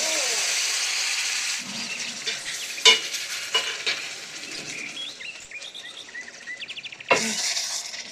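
Boiling water is poured into roasted semolina, then the mix is stirred, giving a loud hissing sizzle and wet splashy stirring scrapes with a few sharper bursts, close by and without speech.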